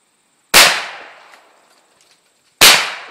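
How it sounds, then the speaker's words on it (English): Two sharp shotgun blasts at a sporting clays skeet range, about two seconds apart, each loud close crack fading into a short outdoor echo. "You've done a ton of skeet shooting, eh?"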